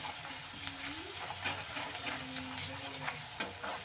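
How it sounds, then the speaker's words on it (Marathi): Ginger, garlic and coriander paste frying in oil, a steady soft sizzle with occasional light stirring scrapes throughout. "ती छान तेलात भाजून घेऊया"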